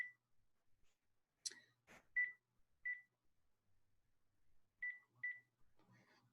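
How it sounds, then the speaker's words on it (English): Telephone keypad dialing a number, a handful of short, separate tone beeps at an uneven pace, with faint handling noises in between and no talking. "I'm going to call you and see if we can catch you on the phone."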